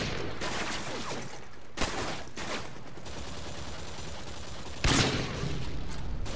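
Rapid bursts of automatic gunfire in the shooter game Call of Duty Online, a dense, sustained rattle of shots with a couple of louder cracks standing out.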